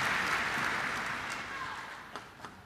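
At a world championship table tennis semifinal, a large arena crowd cheers and applauds after a rally, a broad roar that slowly fades, with a commentator's voice over it.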